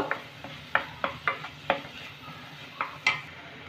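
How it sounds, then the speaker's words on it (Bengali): Spices are stirred together in a pan while cooking dry potol and potato sabzi, with about eight soft scraping strokes and a light sizzle underneath, close by and fairly quiet. "সব মশলাগুলোকে ভালো করে মশলার সাথে মিশিয়ে নেব"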